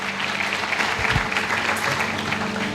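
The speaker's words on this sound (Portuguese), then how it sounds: "Vamos aplaudir o Senhor pela vida dos nossos visitantes?" A church congregation at a Santa Ceia service applauds the visitors, a dense, steady wash of clapping held at an even level for the whole stretch, with a low hum underneath.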